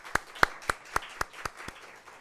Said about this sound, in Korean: 우리 크게 박수 한번 할까요?